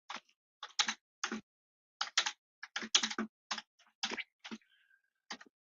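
Fingers typing on a computer keyboard, close and clear, tapping out quick clusters of clicking keystrokes separated by short pauses in an otherwise silent room.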